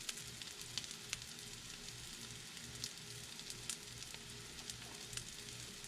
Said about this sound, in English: I'm going to let the other two cook just a little bit longer because the pan is not as hot seemingly in that part of the pan